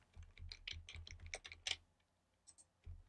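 Quiet, uneven bursts of keystrokes on a computer keyboard, typed into a text field of a form, clustered in quick runs with a brief pause before a few final taps.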